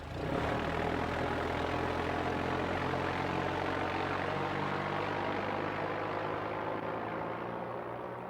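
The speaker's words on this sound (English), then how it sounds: "We landed on a plane. That's pretty cool." A propeller plane lands in the hunting video game theHunter: Call of the Wild. Its engine drones steadily and loudly throughout, with no one speaking.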